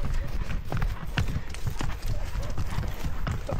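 Horse hooves clip-clop steadily during a ride through the wild Nusa Tenggara countryside, a continuous close rhythm of hoofbeats with ambient noise and some talk mixed in.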